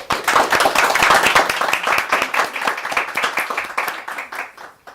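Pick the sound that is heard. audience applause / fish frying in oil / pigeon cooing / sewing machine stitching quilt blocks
audience applause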